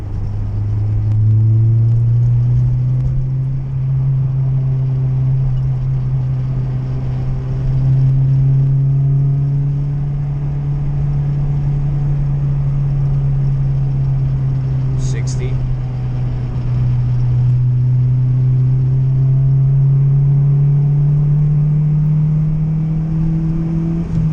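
An Acura RSX with an HKS Hi-Power exhaust pulls hard on a bumpy late-night road, its loud engine drone holding steady and rising in pitch across the run.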